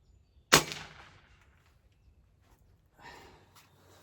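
A single sharp crack from a Gamo Magnum GR air rifle firing at a target, loud and close, followed by a faint rustle a few seconds later.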